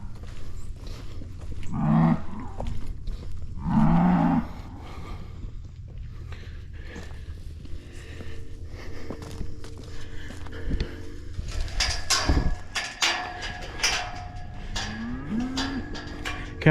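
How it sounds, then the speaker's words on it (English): Cattle on a farm, cows with their calves, give two loud, close moos early on, then fainter calls mix with metallic gate creaks and rattling in the pen. "And here comes the last of the cows."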